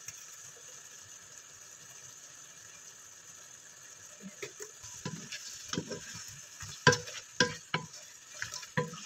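Shrimp with oyster sauce and ginger simmers in a pan, a soft steady sizzle under a constant background hum, joined later by sharper stirring scrapes and clatters as the sound grows busier.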